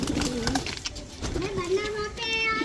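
A pigeon coos in low, throaty bursts close by, while people talk over it in the background.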